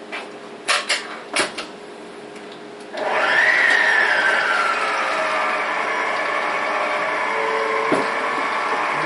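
A few clicks and clunks, then a stand mixer's motor whirs up into a steady loud hum that keeps running as its dough hook kneads dough at speed.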